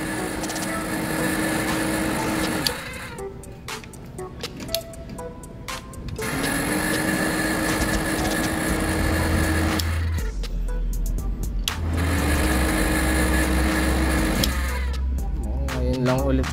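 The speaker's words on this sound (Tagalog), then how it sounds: "Pakinggan nyo yung fan." Radiator fan on a bypassed Honda CB400 motorcycle: a steady mechanical whir with a droning hum that recurs in stretches, with intermittent clattering noises and a low rumble near the end.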